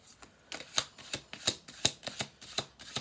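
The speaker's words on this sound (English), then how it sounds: "1 more shuffle." A quick series of crisp, riffling snaps, about eight sharp bursts in a steady rhythm, like cards being shuffled close by with no talking.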